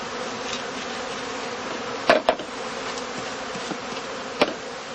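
Honeybees around straw skep hives on open heathland, a steady close swarm buzz with a few sharp knocks and clicks from the hives.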